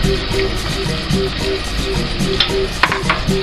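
Yellow bell pepper and garlic fry in a pan for a Bahian moqueca, with a steady close sizzle and repeated stirring scrapes in a regular rhythm, plus a few sharper clinks near the end.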